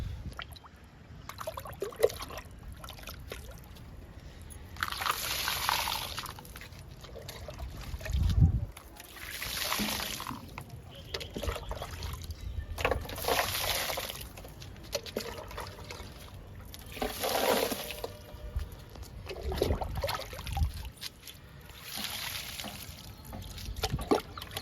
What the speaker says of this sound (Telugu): ఇప్పుడు పచ్చిమిర్చి మొక్కలన్నిటికీ వాటర్ ఇచ్చేద్దాము.